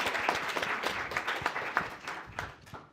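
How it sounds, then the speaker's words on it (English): An audience at a Library of Virginia panel applauds a panelist, a brisk round of many hands clapping with distinct sharp claps standing out, fading gradually toward the end. "Give her a big round of applause"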